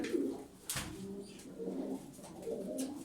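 Pigeons coo in low, soft repeated calls, close by, with a brief flutter or scuffle early on and the cooing continuing in gentle waves.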